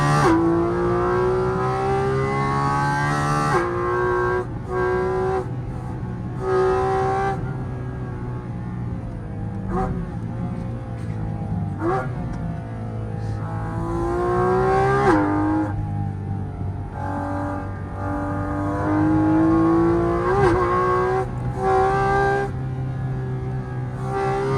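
A Porsche GT4RS with a naturally aspirated engine revs hard while driving. The loud, steady engine note climbs and falls repeatedly through the gears, with no talking over it.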